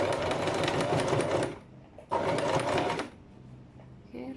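Sewing machine running a reverse stitch on a zip, two loud, fast whirring bursts of about a second and a half each with a brief pause between them, close up.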